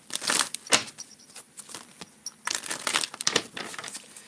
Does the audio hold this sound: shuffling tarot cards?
yes